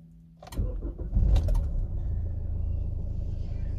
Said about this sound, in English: we'll start the car